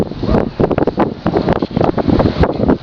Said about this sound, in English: And hopefully it won't be as windy like it is now.